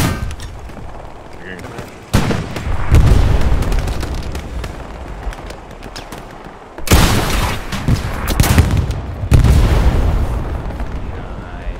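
Artillery fire in the Hell Let Loose video game, several heavy booming impacts landing in separate bursts, loud and close, with rumbling decay between them while players talk over the barrage.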